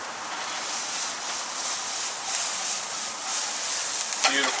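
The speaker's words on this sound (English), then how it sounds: "The liquids are going to come out and they're going to caramelize a little bit in the pan" Onions sizzle steadily in a hot pan as their liquid cooks off and begins to caramelize, a continuous bright hiss with gentle swells and one brief sharp tick near the end.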